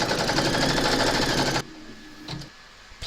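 An embroidery machine stitches an outline round on a hooped Christmas bottle tag, its loud, steady mechanical whir running for about a second and a half before stopping abruptly, followed by quieter room noise and a few soft knocks.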